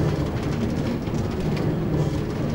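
A roller coaster cart rumbles along rails in Minecraft, a dense continuous clatter and roar without pause, loud and close throughout.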